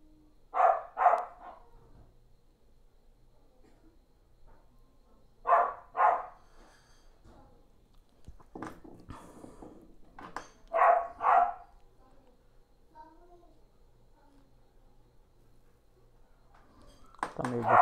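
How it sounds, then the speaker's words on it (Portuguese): A neighbouring dog barks in short paired bursts, repeated several times at a distance, with faint clinks and quiet room sounds in between. "Tem um cachorro aqui do lado aqui que o bicho tá ouriçado."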